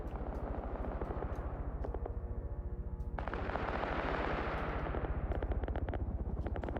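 Dense sustained gunfire and artillery barrage in an Arma PvP battle, rapid machine-gun bursts over a continuous rumbling roar, loud and unbroken throughout with no talk.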